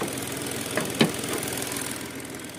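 Diesel three-cylinder engine of a 2014 Hyundai Grand i10 idling nearby, a steady low rumble with a faint vibrating pulse, brief clicks and a short louder burst at the end.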